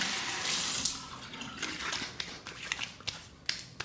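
Running tap water rinses a Parker 111B safety razor, a close, continuous splashing rush broken by a few sharp taps and knocks of metal near the end, with no voices.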